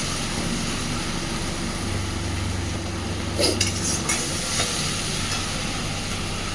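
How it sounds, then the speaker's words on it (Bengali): Spices sizzle and are stirred in hot oil in a pan while cooking Bengali oil koi fish curry, a steady fry hiss with a few scraping stirs, close and without talk. "কষে নেব"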